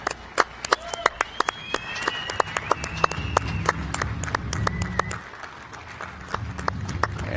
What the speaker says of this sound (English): please give a warm round of applause to our athletes.